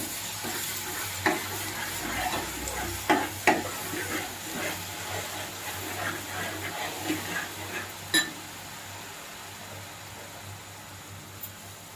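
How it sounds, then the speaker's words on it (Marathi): Garlic and coconut paste roasting in garlic oil for a Ghol fish curry, a steady broadband sizzle with repeated scraping stirs and a few sharp clinks against the pan, close and unbroken, no voices. "लसूण ह्याचं जे वाटण केलं होतं आणि खोबरं ह्याचं जे वाटण केलं होतं ते आपण लसणाच्या तेलावर भाजून घेऊया"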